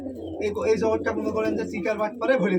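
Pigeons cooing at a pigeon farm in Rajshahi, a dense chorus of overlapping coos from many nearby birds, steady and continuous, with voices talking underneath.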